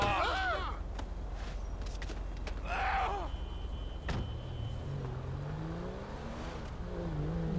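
A car engine in Grand Theft Auto V idles and revs up in a low rising drone, fairly quiet and steady beneath in-game voices and street sounds.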